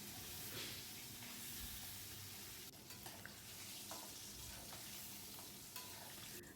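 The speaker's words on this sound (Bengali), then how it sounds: "এবার আমি ইলিশ মাছটাও ভেজে নেব" Hilsa fish fries in a pan of hot oil with a continuous, steady sizzle and occasional small crackles and pops, heard quietly and alone.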